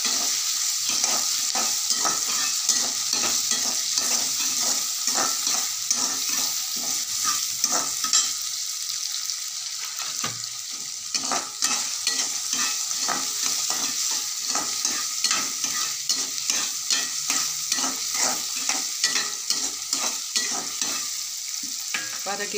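Chopped tomatoes sizzle and fry in a pan with ginger, garlic and cashews, a spoon stirring and scraping in a steady rhythm of clicks over continuous close, loud sizzling with no talking.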